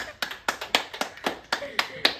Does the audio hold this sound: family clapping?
yes